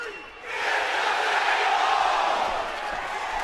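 A large wrestling crowd in Philadelphia roars in a sustained swell of cheering that rises after a brief dip and stays loud and diffuse throughout.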